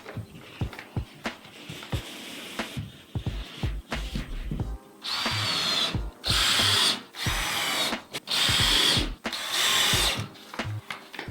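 Power drill driving screws through Sonopan soundproofing board into wall studs, with several sustained whirring bursts between clicks and handling knocks, close and loud.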